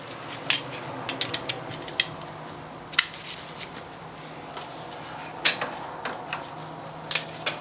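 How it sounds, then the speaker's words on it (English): A breaker bar with a 21mm socket works on a Dodge Dakota 3.7 or 4.7 engine, giving scattered close metallic clicks and clinks at irregular intervals over quiet background. "we're going to use a 21mm socket and a breaker bar"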